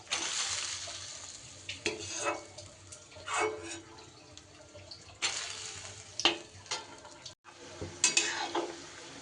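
Lentil batter balls frying in oil in a wok for rasabora, a soft steady sizzle broken by scraping stirs and a few louder bursts, close and moderately quiet, without talk.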